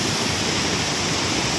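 River water rushes steadily near the Bangladesh–India border at Dawki, a continuous broadband roar with no break or voices.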